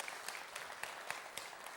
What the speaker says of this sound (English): I'd like to give them a big shout out and applause